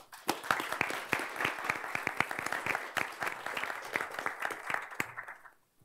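An audience at a talk on communicating geospatial uncertainty applauds to welcome the speaker. Many hands clap in a dense, sustained burst for about five seconds before it quickly fades out.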